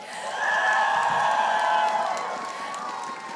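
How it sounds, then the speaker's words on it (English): Large esports crowd at a Mobile Legends MPL Philippines playoff match cheering and whooping in a sustained, loud swell that fades slightly toward the end, with no speech over it. "a lot of people are cheering for you."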